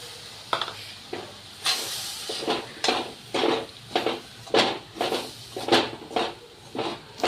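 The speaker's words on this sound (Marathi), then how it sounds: "आता यामध्ये एवढं दूध टाकत आहे।" Pan of roasted grated coconut for coconut laddu, with milk added: repeated bursts of hiss and sizzle with scraping strokes in a steady rhythm, close and without voices.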